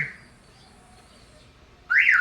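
A short electronic car-finder chirp from a Commuter Deluxe car alarm, then a loud warbling alarm tone that starts abruptly near the end, with quiet background in between.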